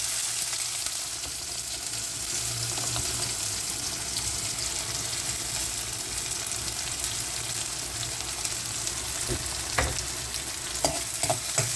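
Sliced onions and green chillies fry in hot oil with a tempering of dals for a beetroot fry, giving a steady close sizzle with occasional utensil clicks and scrapes toward the end.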